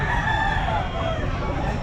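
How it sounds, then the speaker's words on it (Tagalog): A rooster crows with many other chickens clucking nearby at a pet market, a busy chorus that is loud and close. "Marami din manok mga kabossing."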